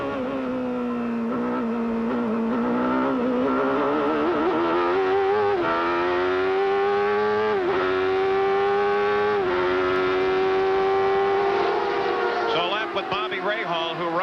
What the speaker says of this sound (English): Turn 1 is 5th gear. Here, play with the throttle. And pick 6th.